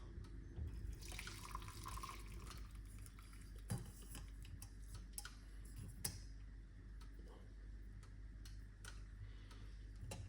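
Tea is poured off into a vessel nearby as a soft trickle of liquid, alongside light clinks of cutlery and cups at a quiet level.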